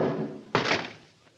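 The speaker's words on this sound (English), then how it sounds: "I backed into the room, and Baldy kicked the door shut." A door is kicked shut in a 1947 radio drama, a single sharp slam and thunk cutting through a background hiss, then fading quickly.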